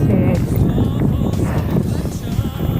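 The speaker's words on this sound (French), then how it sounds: "Il y a un petit peu de vent" Steady wind buffeting outdoors, a constant low rumble of gusts against the microphone with no pauses throughout.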